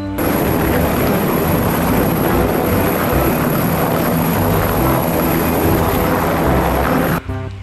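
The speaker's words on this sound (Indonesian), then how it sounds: "Wow, yang ini helikopter." A toy helicopter gives off a loud, steady whirring drone that runs unbroken for about seven seconds and then cuts off abruptly.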